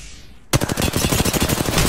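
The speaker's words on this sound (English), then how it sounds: "I'm taking shots." Rapid automatic gunfire in the video game Apex Legends, a loud, close burst that starts abruptly after a brief quiet moment and keeps firing in a fast rhythmic stream.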